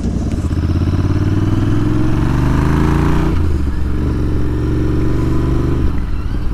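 Royal Enfield Interceptor or Continental GT fitted with a Caffeine Racer high-flow air box cover, riding on the road; the engine drones loud and steady throughout, with rising and falling revs and a brief gear-change dip midway.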